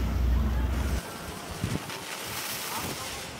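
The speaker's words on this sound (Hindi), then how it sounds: "जो यहाँ पे विंड है काफ़ी तेज़ चल रही है, तो काफ़ी तेज़ हवा है यहाँ पे।" Strong wind blowing outdoors at a fireworks test site, a loud broadband rush buffeting the microphone with heavy low rumble at first, then easing into a steady gusty hiss.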